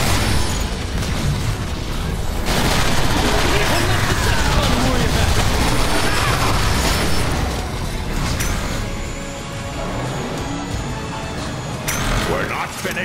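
Transformers: War for Cybertron cutscene battle: dense, loud mechanical clatter and booming weapon fire, with impacts and bursts throughout, under an active soundtrack with a voice speaking at times.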